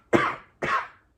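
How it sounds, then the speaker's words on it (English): A person coughs twice into the crook of the elbow, a close and muffled pair of harsh bursts about half a second apart. No talking accompanies the coughs. "When you're coughing, use elbow cough like this."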